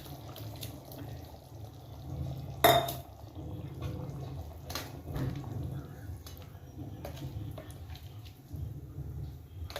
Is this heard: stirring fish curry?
yes